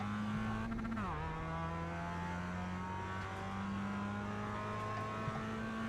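Mazda MX-5 Cup race car accelerating hard through a corner at Laguna Seca in iRacing, engine note dipping on a gear change then climbing steadily, loud and continuous with faint tire scrub throughout.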